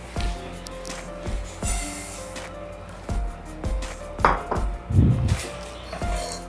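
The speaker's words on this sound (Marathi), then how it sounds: "आता पॅन गरम झाला आहे. आपण तीळ ना भाजून घेऊ." Sesame seeds dry-roasting in a hot pan for til ladoo, with repeated knocking and scraping of a utensil against the pan in an uneven rhythm over steady background music.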